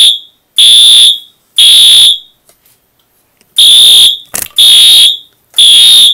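A Wheelock fire alarm horn sounds during a system test, blaring loud, shrill blasts in a coded pattern: two pulses, a pause, then three more pulses, close and harsh with no talking.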